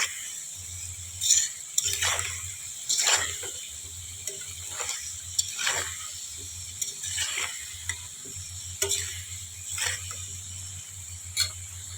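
Potatoes frying in a pan, a soft steady sizzle under repeated scraping strokes of a spatula, about a dozen stirs at an uneven rhythm, close by.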